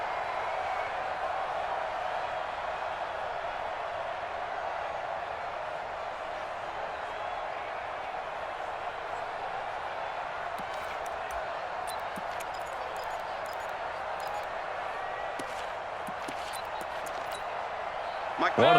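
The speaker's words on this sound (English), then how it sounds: "the crowd getting into it as we come up on a big third down" A football stadium crowd roars in a steady, broad wash of cheering during an NFL game against the Browns, with a commentator talking over it and sharp claps and bangs near the end.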